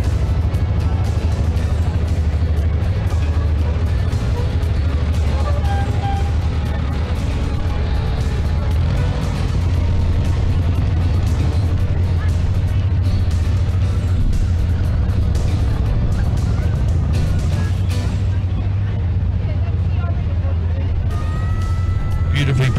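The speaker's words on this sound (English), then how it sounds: "Beautifully presented vintage cars." Continuous loud rumble of vintage cars and tractors rolling past in a Jacaranda Festival parade, with engine drone and crowd noise throughout, and a voice talking over it.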